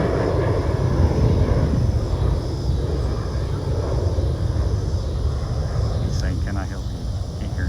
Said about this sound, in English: Can't hear him over the airplane.